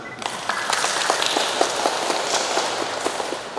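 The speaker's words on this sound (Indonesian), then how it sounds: "Ada tepuk tangan boleh." Steady, dense applause fills a church after a wedding blessing ceremony, many hands clapping together in a continuous crackling wash with no pause.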